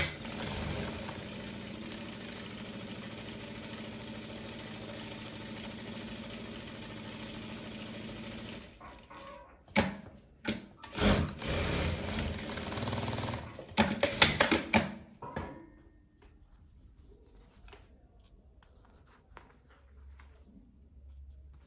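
Domestic sewing machine stitching bias binding onto a crochet needle case, a steady whirring run for several seconds followed by short stop-start bursts of stitching, then quiet.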